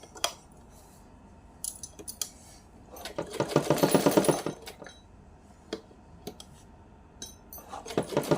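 A sewing machine stitching a small piece of fabric for a doll outfit runs in short bursts, with one longer whirring run in the middle, scattered sharp clicks and handling knocks, and no voices.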